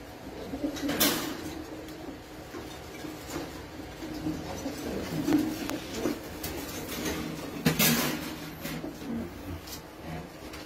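Pigeons coo in low, soft, repeated bursts at close range while being handled for a malathion bath against lice, with brief rustling and flapping noises breaking in twice.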